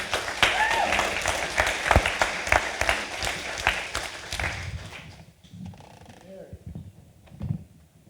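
Audience applause for a storyteller at a live storytelling event, steady moderate clapping for about five seconds before it drops off and a voice begins speaking.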